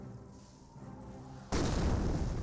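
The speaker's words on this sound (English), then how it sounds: "We got some more mortars running on in." Mortar fire in the strategy game Company of Heroes, a sudden loud boom that cuts in over a quieter battlefield background and rumbles on afterward.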